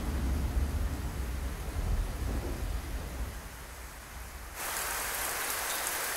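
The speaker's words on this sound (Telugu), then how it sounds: "ఎందుకు ఇంత వర్షం కురుస్తోందో?" Heavy rain falls in a dense, continuous hiss, loud and close with a deep rumble underneath, briefly easing before resuming at full strength, with no voices.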